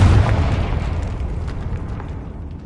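A Confringo spell explosion in the Hogwarts Legacy video game, one deep booming blast that hits at once and then decays over a couple of seconds into a rumbling, crackling tail, with no voices.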